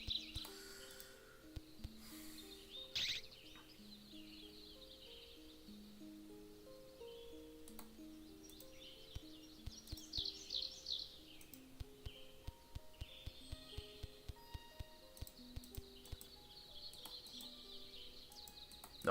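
Bird chirps from the video game Gobliiins, short bright tweets repeating at mid volume alongside a looping melodic game tune and a run of sharp clicks, with no talking.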